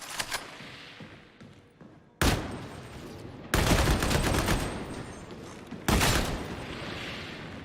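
Revolver shots from Warhammer 40,000: Darktide come as several loud, sharp cracks a few seconds apart, each followed by a short noisy tail, with no talking over them.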